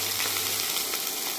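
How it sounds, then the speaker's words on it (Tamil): Bitter gourd and tomato with salt sizzling and frying steadily in a pan, a continuous bright crackle with no voices. "பாவக்காயும் தக்காளி பழம் உப்பு போட்டு வதக்கணும்."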